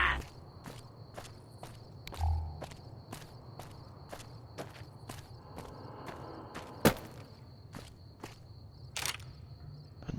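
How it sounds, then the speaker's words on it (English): Footsteps in the video game Fallout: New Vegas land as a steady series of sharp, evenly spaced clicks over a low ambient hum, with an occasional louder knock. "I hear footsteps."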